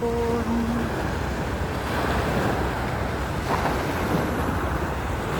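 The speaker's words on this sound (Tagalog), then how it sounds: "Ito ang tabi ng dagat sa may East Coast." Sea waves wash along the East Coast shore at sunset as a steady, loud roar of surf mixed with wind buffeting the microphone, continuous for the whole stretch with no talking.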